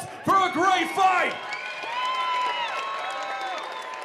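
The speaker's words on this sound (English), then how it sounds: "one more round of applause for a great fight" Crowd applauding and cheering after a three-round women's strawweight bout, with whoops and raised voices rising in loud bursts over the first second before settling into a steady, sustained arena roar.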